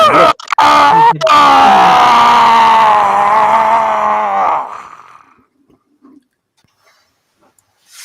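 A person's voice imitates a loud screeching of metal grating on metal echoing through a cavern, a strained, wavering groan that holds for about four seconds before fading into near silence.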